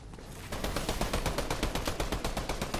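Rapid gunfire in the Fortnite video game: a steady, fast string of sharp repeated shots, about a dozen or more evenly spaced cracks, loud and close, starting after a brief quiet moment with no talking.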